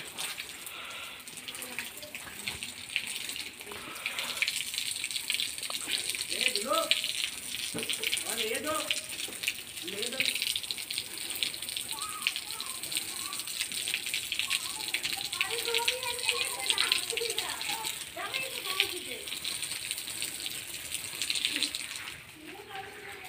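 A water jet sprays continuously while a poultry shed floor is washed down. The hiss is steady and fairly faint, and someone talks over it throughout.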